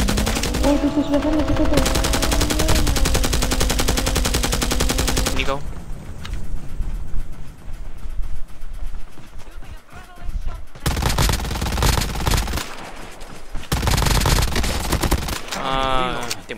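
Rapid automatic gunfire in a Call of Duty Mobile battle royale match, loud sustained bursts with brief pauses, while players talk excitedly over the shooting.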